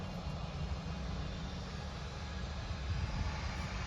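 Steady low aircraft engine roar from a plane on a nearby runway, a continuous rumbling drone that holds at even loudness throughout with no clear pass-by.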